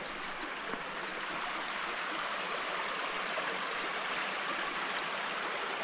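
Steady broadband rush of a creek flowing near a river crossing in the Australian bush, continuous and fairly close, with no voices over it.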